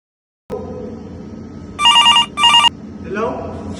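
Front desk telephone at a hotel rings twice in two clear, loud bursts over a low room murmur, followed by a faint tonal sound.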